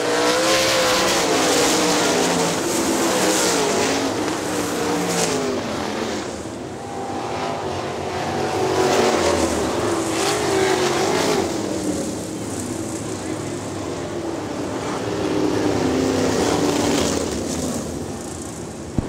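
Several 410 sprint cars race around the Hartford Speedway Park track, their engines roaring loud and sustained with rising and falling passes, while a track announcer talks over the noise.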